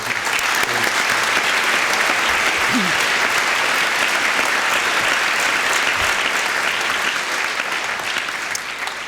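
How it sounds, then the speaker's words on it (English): An audience claps for a first-year students' performance at a conservatoire graduation ceremony, dense sustained applause from a large hall crowd that holds steady and trails off slightly at the end. "I think we should give them another round of applause"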